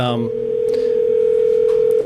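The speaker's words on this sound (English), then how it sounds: "That's someone else's phone there." A telephone dial tone hums as a steady, loud, unbroken tone during an audience question session at a press conference, with brief murmurs of voices at the start.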